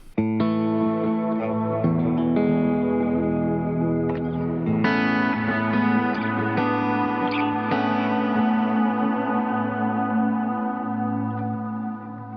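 Electric guitar through a Morningstar MC6 Pro MIDI setup rings out sustained chords and notes drenched in lush, spacious church-like reverb, loud and continuous for several seconds without speech.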